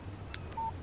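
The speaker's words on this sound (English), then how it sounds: "Text message from Barry." A short electronic phone chime sounds once in the video game Alan Wake, a brief clipped tone after a couple of faint clicks, quiet and alone over a low ambient hum.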